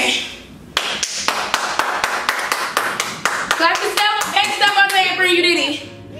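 Steady rhythmic hand claps, close and sharp, repeating about twice a second, then cheering voices and shouts join over the final claps.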